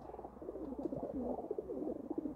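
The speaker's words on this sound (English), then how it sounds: "the pigeons are just having an argument, which is normal" Pigeons in a roosting loft squabble close by with a run of agitated, throaty cooing and grumbling, fairly soft, with no voices.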